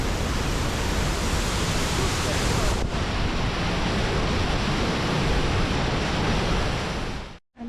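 Agua Azul waterfall in Mexico roaring up close, a dense, steady wash of falling water that fills the whole clip at full loudness before cutting out abruptly near the end.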